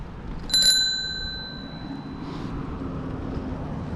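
A bicycle bell on an e-bike riding the Meewasin Trail in Saskatoon gives one bright, clear ring that fades away over steady wind and road rumble.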